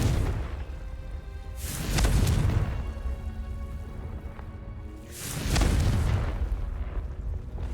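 A Confringo fire curse from Hogwarts Legacy, cast twice: each lands as a loud, rumbling explosive burst that swells and fades over about a second, with a crackling, hissy tail between the two blasts.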